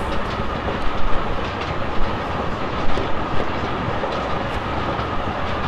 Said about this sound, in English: well, the train's moving.